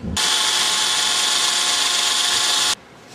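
A power drill fitted with a smaller bit bores into wood for a horseshoe players bench, a single loud, close, high whine lasting about two and a half seconds before stopping abruptly.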